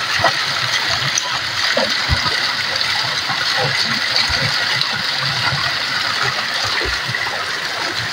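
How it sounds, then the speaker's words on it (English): A waterfall on Hope Road near Halfway Tree in Jamaica, a constant rushing splash of falling water, steady and fairly close, with faint scattered background knocks. "I'm going to check out the waterfall."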